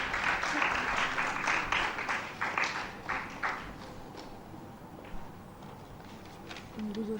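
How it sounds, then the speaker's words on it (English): An audience at a college international conference applauds, dense clapping that fades over several seconds and leaves a quieter room, with a voice briefly heard near the end. "Can we have a round of applause?"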